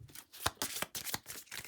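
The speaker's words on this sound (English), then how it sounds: "This is the deck of spells. So let's shuffle that." A deck of spell cards from a Dungeons & Dragons board game is shuffled by hand, giving quick riffling bursts and soft flicks at close range, fairly quiet, with no talking.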